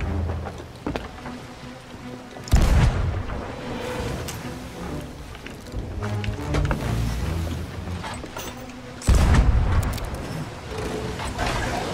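A ship's cannon fires twice in the pirate game Sea of Thieves, each shot a heavy, sudden boom that stands out over steady creaking and sea ambience.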